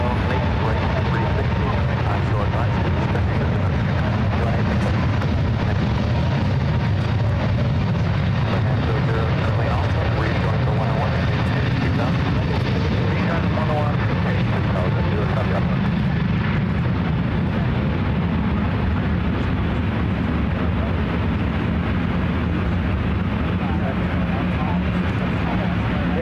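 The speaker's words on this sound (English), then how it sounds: "Runway 1 right, clear for takeoff" A Delta airliner takes off from runway 1 right at San Francisco International Airport, its engines giving a steady, broad roar that holds throughout, with a radio voice heard faintly over it.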